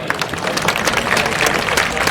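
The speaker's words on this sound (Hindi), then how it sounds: "ये हर वीडियो के बाद ताली बजानी होती है।" Audience at the Revolt RV electric motorcycle launch event in Ahmedabad clapping after a presentation video, a dense, even burst of applause sustained throughout.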